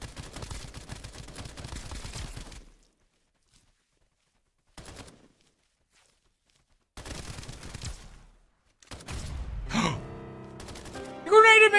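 Gunfire salvos in the video game Escape from Duckov, dense bursts of shots in several clusters separated by silence, with later bursts mixed with other game effects and a voice.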